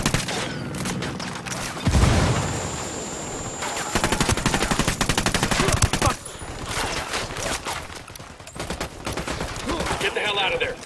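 Gunfire in the video game Ghost Recon Wildlands: sustained bursts of automatic rifle fire and overlapping shots, loud and continuous with brief lulls, mixed with occasional speech from characters.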